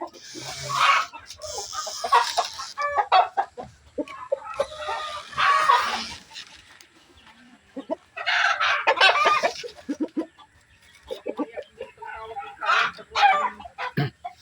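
Native chickens cluck steadily at close range, with bursts of louder calls and a rooster crowing now and then, while a dog barks occasionally and people talk nearby.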